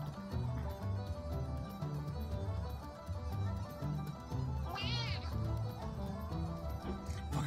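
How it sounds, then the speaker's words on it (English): A house cat lets out one drawn-out meow midway, sounding close, over steady background music and a talking voice during a live-streamed Digimon Story: Time Strangers session. "I forgot that was the cat"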